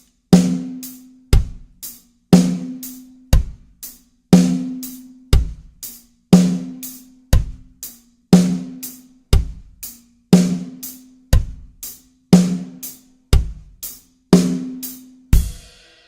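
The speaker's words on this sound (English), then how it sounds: "you're going to be hitting the hi-hat on all of the upbeats of eighth notes" A drum kit plays a steady dance pattern with crisp, evenly spaced hits on the eighth-note upbeats. Each strike rings out briefly and the hits repeat alone, close up, with no talking.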